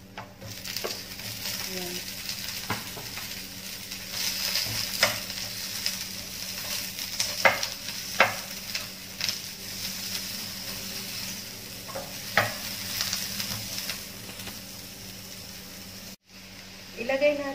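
Onion sautéing in a hot pan gives a soft, continuous sizzle with occasional spatula scrapes and clinks, moderately close, while a person speaks briefly.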